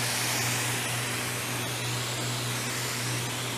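A black pump sprayer mists hydrogen peroxide antifungal over broccoli seedlings, giving a steady, close hiss that holds without a break, with a low constant hum beneath it.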